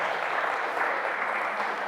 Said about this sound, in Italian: Io sinceramente gli farei un applauso